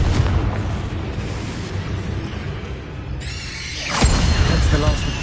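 Confringo fire spell in Hogwarts Legacy, a rumbling crackle of game noise that erupts into a louder booming blast partway through, with a player talking over it.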